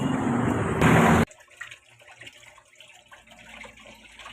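Water gushes from a kitchen tap into a pot of beef soup in a loud steady stream for just over a second, then cuts off, leaving quiet clinks and room noise.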